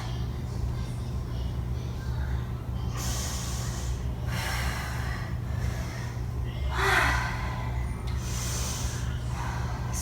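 Slow, deliberate breaths during an intermediate quadruped floor exercise: several soft, airy exhalations and inhalations spaced a few seconds apart over a steady low background hum.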